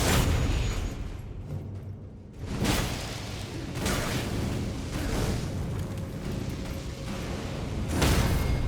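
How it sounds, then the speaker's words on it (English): A boss's charged fire explosion overhead slam in Elden Ring: rumbling blasts and crackling impacts with swooshes, several heavy hits spaced a few seconds apart over a dense, noisy game soundscape. "The charged up fire explosion overhead slam"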